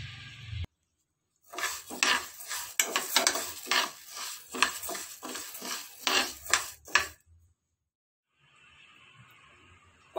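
Horse gram being dry-roasted in a pan, stirred with a utensil that scrapes and clatters in quick repeated strokes, loud and close, after a brief pause and before a quiet stretch.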